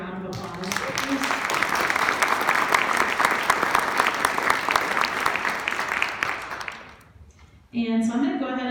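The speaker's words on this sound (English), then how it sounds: "if you can give these guys a round of applause" Audience applause for a finance panel, a dense steady clapping that fills most of the stretch, then drops away before a voice starts speaking near the end.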